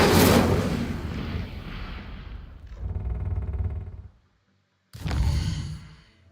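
An Incendio fire spell cast in the video game Hogwarts Legacy, a loud whooshing burst that fades into a crackling tail, cuts to silence, then a second fiery burst follows.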